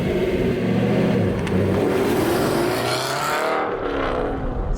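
An Aston Martin GT8 engine drones loudly from inside the car while driving, holding a steady roar with rising revs and gear changes before easing off at the end.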